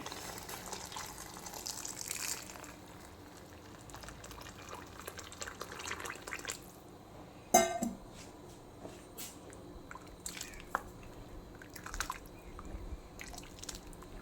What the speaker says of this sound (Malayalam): തിളച്ച വെള്ളം നന്നായിട്ട് വെട്ടി തിളയ്ക്കുന്ന വെള്ളമാണ് തിളച്ച വെള്ളം വയ്ക്കുക